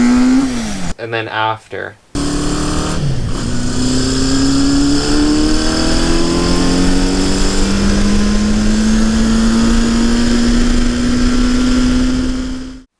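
A 1970 Honda CB500 motorcycle engine running rough before a valve adjustment and running rich: loud and close, revving up in a rising whine after a brief choppy stumble, then climbing steadily and holding, with a short spoken phrase early on.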